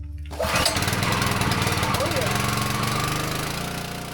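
The small gas engine of a Harbor Freight Predator 30-ton log splitter catches on the first pull after a brief quiet start and runs steadily at a loud, rough, throbbing idle, with a faint voice under the noise.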